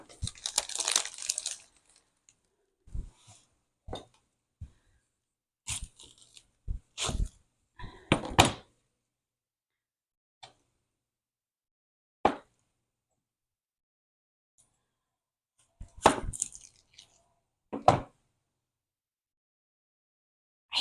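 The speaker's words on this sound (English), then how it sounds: "I hate peeling onions." Dry papery onion skins peeled by hand give short, close crinkling and crackling bursts, scattered irregularly with quiet pauses between them.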